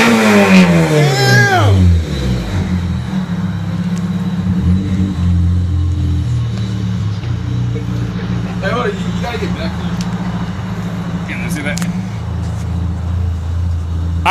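Engine of a newly acquired project car with the muffler partly on, loud revs rising sharply at first and then settling into a rough, throaty idle with occasional blips; voices talk and exclaim over it.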